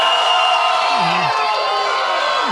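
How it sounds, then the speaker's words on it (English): A crowd at a light-hearted debate event cheers and whoops loudly in a steady roar, with shouts rising over the din and a brief voice sliding through the middle. "By applause and cheer, who favors the eagle?"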